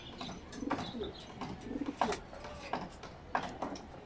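Pigeons coo softly and repeatedly nearby. Several throaty, rolling calls overlap in an uneven rhythm, with no speech.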